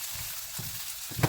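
Chopped carrots fry in a pan for a creamy pasta, giving a steady close sizzle broken by two brief scraping bursts as they are stirred.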